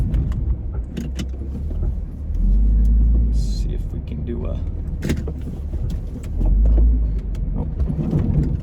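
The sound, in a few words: Toyota Corolla driving on a bumpy road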